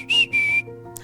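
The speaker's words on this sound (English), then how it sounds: "Tonk emits a whistle and a beep" A robot droid gives two bright electronic whistle tones in quick succession, close and clear, followed by a faint short beep.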